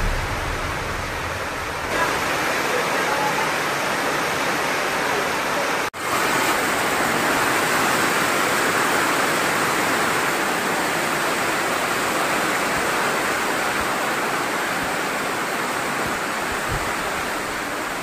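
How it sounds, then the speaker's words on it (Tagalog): A sudden rain shower comes down outdoors during work in the countryside, a steady, loud, dense hiss of falling rain that runs throughout with only a brief momentary dip, with no voices. "At sa hindi inasahan, biglang umulan."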